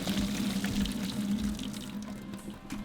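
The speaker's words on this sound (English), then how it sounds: "drain the water, and let everything cool down." Hot cooking water drains off cooked vegetables in a kitchen, a continuous near pour splashing into a sink for a few seconds.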